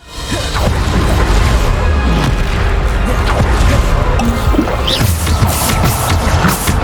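In the Hogwarts Legacy video game, a Bombarda blasting spell goes off during a combat trial. It sounds as a loud, sustained, rumbling explosive roar with crashing debris and a whoosh, dense and close throughout.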